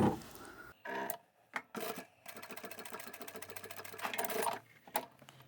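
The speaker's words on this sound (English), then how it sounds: "we're just going to stitch across the centre part to secure the two layers together" Domestic sewing machine stitching a bag's lining and outer fabric together across the centre, running in a few short bursts and then a steady whirring run of several seconds, close up with handling sounds between.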